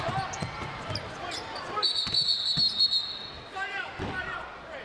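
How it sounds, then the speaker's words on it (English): A referee's whistle sounds at a 2013 college men's basketball game between UVU and CSUB. The shrill trilling blast rises over arena crowd noise and ball thumps. "Whistle."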